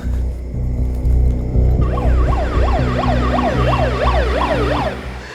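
A wailing ambulance siren cycles up and down repeatedly over a low rumbling engine, fairly close and loud, with no voices.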